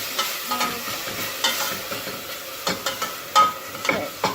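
Garlic frying and browning in a pan for pasta sauce, a soft continuous sizzle broken by intermittent stirring scrapes and a few light utensil knocks, no talking.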